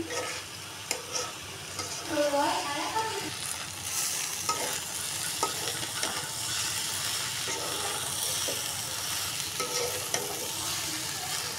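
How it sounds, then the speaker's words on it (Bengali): Meat sizzles and fries in a pan for khichuri, a steady close hiss with intermittent stirring scrapes and clinks, no voices over it. "এই মাংসগুলো আরেকটু ভাজে নিব"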